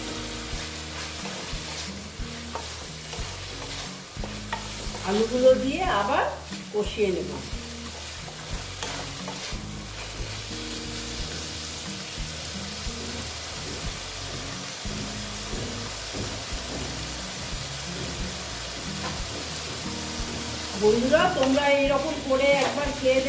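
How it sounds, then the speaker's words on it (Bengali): Potatoes fry in a pan for a vegetarian mung kalia, giving a continuous, close sizzle with repeated scraping and stirring strokes that swell louder now and then. "এবার আমি এখানে আলুগুলো দিয়ে দিচ্ছি"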